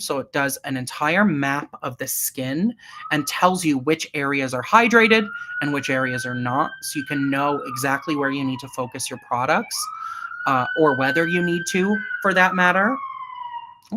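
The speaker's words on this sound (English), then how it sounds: "You might hear a siren right now." An emergency vehicle siren outside in New York City, heard from an apartment as a long rising and falling wail under continuous nearby talk.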